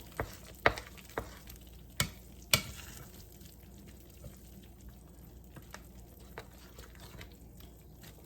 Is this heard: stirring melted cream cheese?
yes